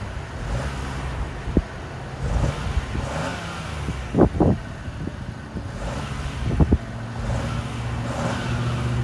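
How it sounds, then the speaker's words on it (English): A 2022 Chevy Trailblazer RS with a 1.3-liter turbocharged three-cylinder engine and CVT idles steadily outdoors, then gives a couple of short, sharp revs that rise and fall quickly, with some wind noise across the microphone. "Go ahead and do a quick rev once it's almost warmed up."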